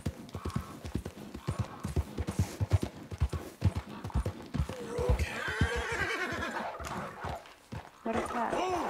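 Horse in Red Dead Redemption 2 trotting with steady clip-clop hoofbeats, then letting out a loud whinny near the end; the sounds play under game audio with some talk.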